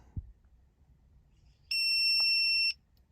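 A tire pressure monitoring system unit gives a single sharp electronic beep for about a second, preceded by a soft click as its set button is held, in an otherwise quiet room.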